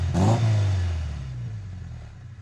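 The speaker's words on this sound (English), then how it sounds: "Let's hear what the long life stainless system sounds like on Lexy." A Ford Sierra with a 1800 CVH engine and a long-life stainless steel exhaust gives one quick rev that rises sharply and then settles into a throaty, fading idle, close by and without talk.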